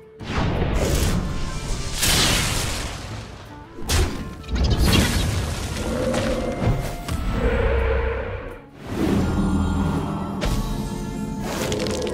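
An explosion in the Hearthstone card game, with several loud crashing, thudding bursts and whooshes packed closely over a dense game soundtrack, one heavy impact after another at close range.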